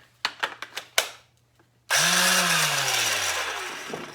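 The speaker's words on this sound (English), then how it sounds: "I just take my little sander here, little palm sander" A small palm sander buzzes against a 1983 Yamaha XJ900 Seca carburetor to agitate it, starting after a few sharp knocks with a loud, steady whine whose pitch slowly drops as it runs.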